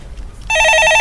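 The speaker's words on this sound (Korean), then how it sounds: "예, 전화 받아보겠습니다." A telephone rings in a steady electronic trill during a Korean stock-market radio call-in show, loud and close, starting abruptly after a brief low murmur.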